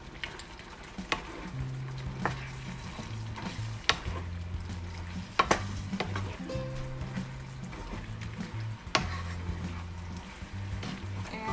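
Beef afritada with turmeric being stirred in a frying pan: steady sizzle and frying with repeated scraping strokes and clinks of the utensil, moderately close, with no talking.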